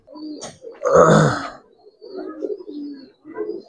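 Giribaz pigeons coo close by in a loft, a louder throaty burst followed by several softer, rolling coos in a loose rhythm, with no voices.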